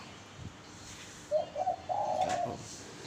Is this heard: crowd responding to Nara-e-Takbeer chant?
no